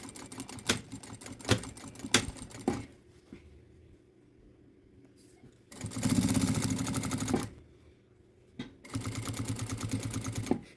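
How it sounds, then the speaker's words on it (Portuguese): A sewing machine stitches a 16x26 hygiene kit in two sustained runs, preceded by a few sharp clicks and quiet handling, with a short pause between the stitching bursts. "Eu coloco ele, baixo a minha agulha aqui, ó. E aí, eu começo a parte da costura."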